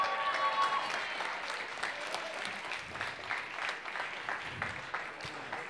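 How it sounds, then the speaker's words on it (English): An audience at a live game-show-style event applauds, and the clapping is steady and dense from a sizable crowd. It stays fairly quiet and distant, with some crowd noise underneath. "Give it up for them 3,"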